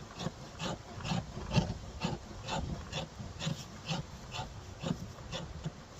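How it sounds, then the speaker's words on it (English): The spine of a BeaverCraft BSH6 Breeze bushcraft survival knife scrapes fine shavings off a piece of wood in repeated rasping strokes, close and moderately loud, with no talking. "the spine of their knife to shave wood. Make some fine shavings"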